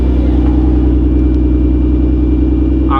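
A VW Mk4 R32 fitted with a Magnaflow cat-back exhaust idles close by, a deep, steady, rumbling drone with an even low pulse and no talk over it.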